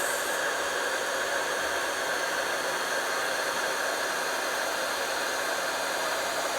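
A heat tool blows a steady, loud, close whooshing hiss while melting gold embossing powder on a Christmas card, continuous and unbroken with no voices.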